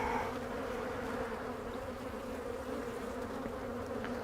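Honeybees buzz around an open beehive that has swarmed, a continuous steady hum from many insects that stays fairly faint and even from start to finish.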